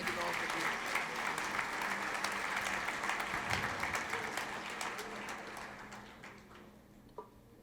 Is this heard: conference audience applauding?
yes